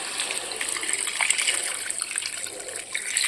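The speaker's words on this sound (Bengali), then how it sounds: "দিয়ে দেবো একটু গরম জল। জল গরম করে নিয়েছি," Heated water pours into a cooking pot on the stove, a steady splashing gush that runs loud and unbroken from start to finish, with no voices.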